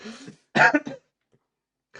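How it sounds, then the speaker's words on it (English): A person clears their throat and coughs a couple of times, close to the microphone, with short pauses between. "Apologies for coughing as well"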